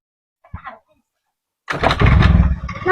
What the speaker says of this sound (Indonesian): Coba deh nyalain motornya.